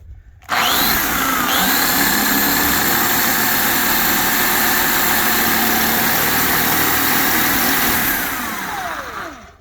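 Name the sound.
power drill drilling F-150 rocker panel with split-point bit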